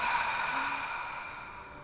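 A long open-mouthed exhale after a deep breath during a yoga breathing exercise: a soft, breathy rush of air, close and steady, fading gently over nearly two seconds.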